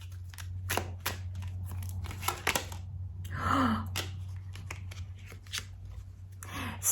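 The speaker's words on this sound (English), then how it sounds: "Let's shuffle again." Tarot cards shuffled by hand at close range, giving crisp papery riffles and slaps in uneven bursts with short pauses between them, over a steady low hum.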